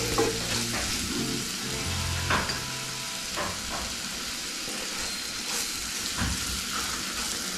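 Garam masala and byadgi chilli powder are stirred into frying spices in a pan. A continuous, fairly loud sizzle carries a few soft scraping strokes of the spoon, with no voices.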